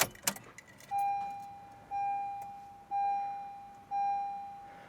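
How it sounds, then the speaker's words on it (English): Ignition key of a 2012 Honda Civic EX is inserted and turned to the on position with a brief jingle of keys, followed by four evenly spaced, moderately loud electronic warning chimes about a second apart. "We're gonna put the key in, turn it to the on position without starting the car."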